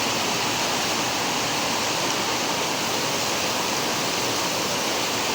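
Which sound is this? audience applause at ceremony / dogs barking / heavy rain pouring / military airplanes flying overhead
heavy rain pouring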